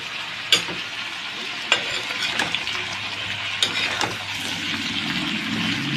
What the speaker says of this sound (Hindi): थोड़े से तल जाती है गोभी तो अच्छी लगती है बनने में।